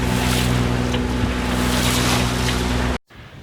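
A single-handed trailer sailboat motors in with its jib down in fickle wind. A steady outboard drone runs under rushing wind and water noise for about three seconds, then cuts off abruptly.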